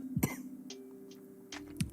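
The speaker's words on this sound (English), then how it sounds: "I have developed a cold. It's mostly a head cough." Coughing from someone with a head cold, two quick rough coughs close to the mic, a quiet pause, then another short cough near the end.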